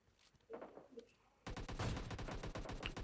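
PUBG Mobile gunfire rings out in a fast, dense burst of repeated shots lasting the second half, after a quieter stretch with faint voice-like sounds.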